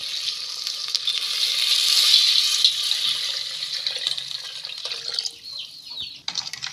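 Dissolved liquid poured into a pot of fish curry, a steady hissing, splashing stream that swells and then tapers off, close and fairly loud, with no speech.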